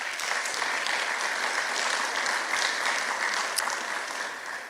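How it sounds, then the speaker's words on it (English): At a university business scholarship breakfast, a room full of guests gives steady, even applause, with many hands clapping in a continuous wash at moderate distance. "Round of applause."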